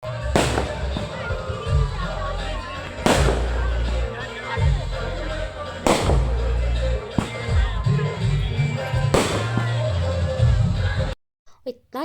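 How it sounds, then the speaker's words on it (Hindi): Firecrackers burst loudly during Chhath Puja celebrations, with sharp bangs every few seconds over a continuous crackling din and crowd noise, then a sudden drop near the end. "इतना ज़्यादा पटाखा, मीन्स आधा घंटा से ज़्यादा तक ये पटाखा जलते रहा"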